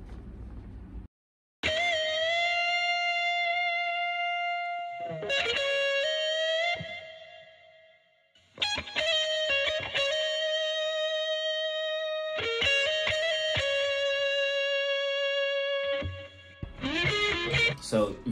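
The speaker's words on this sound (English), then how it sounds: "it's an electric guitar" Distorted electric guitar sample from a producer's kit for a soul beat, playing sustained harmonic-rich notes and chords in phrases separated by short gaps, loud and close with effects-unit coloring, no voices.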